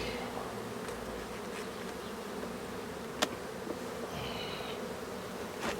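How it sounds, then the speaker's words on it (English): Honeybees hum in a steady, dense drone close up, a continuous buzzing mass with a faint click partway through. "It looks like I've got a lot of bees here for the winter."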